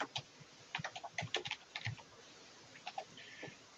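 Quiet typing on a computer keyboard indoors, a string of irregular light key clicks in short bursts with small pauses between, heard alone without voices.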